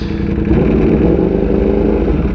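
A Ducati Panigale V4 motorcycle engine idles at about 2,000 RPM, a loud, close, deep rumbling burble with a steady rapid firing pulse and no talk over it.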